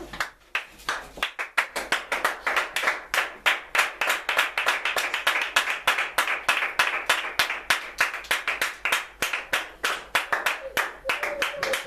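A church congregation claps in worship, a steady rhythmic beat of many hands, close and loud for the whole stretch, with voices faintly underneath.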